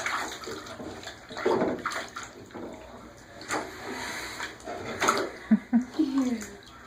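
A dog is bathed in inch-deep water in a tub, with close splashing and sloshing in irregular bursts, plus a few soft whimpers, as a person talks gently nearby.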